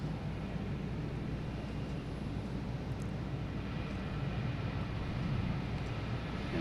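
American Airlines jet from London Heathrow at Boston Logan airport, producing a steady, dense rumbling roar that holds evenly from a distance with no talking.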